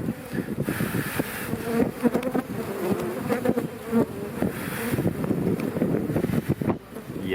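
Honey bees swarm and buzz around an open hive frame with capped brood, a dense, steady droning hum close to the microphone, with light wind noise and no talking.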